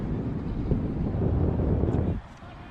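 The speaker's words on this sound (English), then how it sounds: "Wind picking back up here at Dobson Field, as it had quelled for a moment" Gusty wind at an outdoor soccer field, Dobson Field in Buffalo, NY, buffets the microphone as a steady low roar that cuts off sharply near the end.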